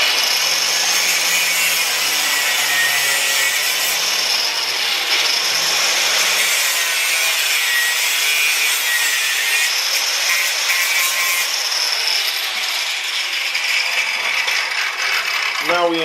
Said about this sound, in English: We're going to go ahead and chop them off because we're not going to need all them threads on there